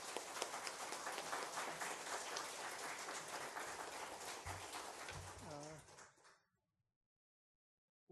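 Dense applause from a large church congregation at a Sunday service, sustained for several seconds before thinning out and stopping abruptly, with a brief voice near the end.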